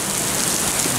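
Heavy rain and small hail, around a quarter centimetre across, pound steadily onto a street and surfaces during a spring thunderstorm, a dense unbroken hiss without pauses or voices.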